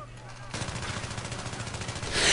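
Rapid automatic gunfire rattles on in a dense, steady burst from a Battlefield 3 match, loud and continuous, swelling louder toward the end with no speech over it.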